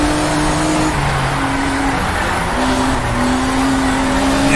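A race car engine in the racing video game Power & Glory roars loud and constant as the car slides sideways through a corner, its pitch shifting slightly as the revs change.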